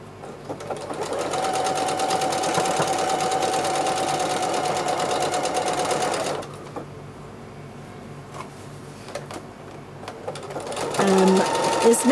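Sewing machine doing free-motion darning over neck patches on a solid embroidered dress, running in a steady, loud buzzing stitch for about six seconds before dropping to quieter intermittent whirring, with a person speaking over it.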